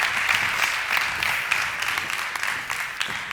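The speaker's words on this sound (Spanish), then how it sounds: "Un fuerte aplauso para los 4." Applause from an audience at an agricultural fair event. It is dense and steady, with many hands clapping at once for a few seconds, and no voices stand out above it.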